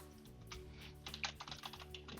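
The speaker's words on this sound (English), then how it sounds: "we're going to run the following command: sudo edge control create" Quick, light keystrokes on a computer keyboard entering a terminal command, a soft irregular run of clicks close by over a faint hum, with no voices.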